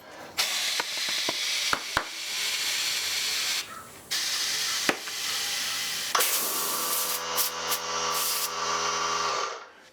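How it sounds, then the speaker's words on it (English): An air compressor hose blows into a tubeless bicycle tire with the valve core removed to seat the bead, giving bursts of loud hissing air split by clicks and pauses, then a steadier tonal rush near the end. "So let's get the air compressor all set, and we'll pop the bead back on here."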